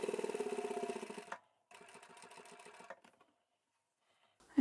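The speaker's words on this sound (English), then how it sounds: "I'll just top stitch close to that edge there, making sure that the seam underneath is caught up in the sewing." A sewing machine top stitches close to the edge of a small scrap-fabric coin pouch at a long stitch length, running in two steady rapid bursts separated by a short pause, then falling silent.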